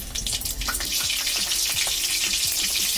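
Three green chillies drop into hot oil already crackling with cumin seeds, a steady close hiss with dense popping and spitting throughout.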